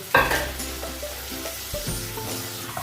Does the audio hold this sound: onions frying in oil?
yes